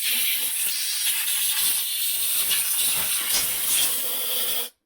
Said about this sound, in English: It's going to blow any loose debris off.